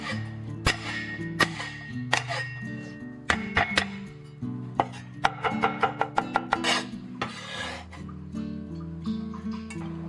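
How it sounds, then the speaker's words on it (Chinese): Knife mincing sand ginger on a cutting board, a close series of sharp, irregular chops in quick bursts over background music, with no talking. "这沙姜一定要给它剁碎一点点啊"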